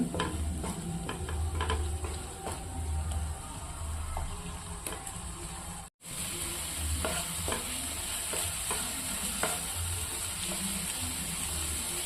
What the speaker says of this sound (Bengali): এরপর ভালো করে কষাবো পুরোটাই অল্প আঁচে করছি